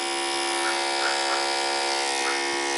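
Electric dog clippers fitted with a 15 blade hum steadily and loudly while grooming a poodle puppy's face, a continuous close buzz with slight changes in tone as the blade moves through the hair.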